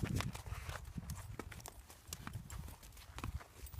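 Horse hooves clip-clop steadily during a riding lesson, a close, rhythmic series of sharp strikes with scattered thuds and shuffles around them.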